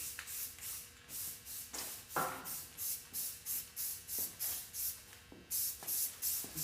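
Short bursts of spray primer mist from an aerosol can onto a motorcycle helmet in a rapid, regular series of close hissing puffs with brief gaps between them.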